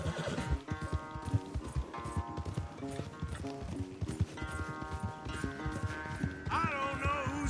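Horses gallop in a race in Red Dead Redemption 2, with rapid clip-clop hoofbeats and occasional neighs and whinnies under steady game music, fairly close and continuous throughout.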